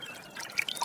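Cool water splashes and drips as someone washes their face by hand, a soft nearby trickle with a few small bright splashes toward the end.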